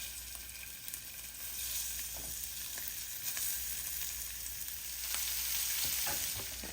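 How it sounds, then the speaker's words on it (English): Shrimp frying in oil in a smoking-hot pan, giving a dense, continuous hiss that swells slightly midway, with faint clicks of stirring and no voices. "Pan is smoking hot and ready to go. We're gonna add our shrimp."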